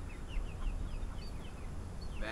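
Chickens give soft, brief chirps and clucks repeatedly over a noisy background, fairly faint and close.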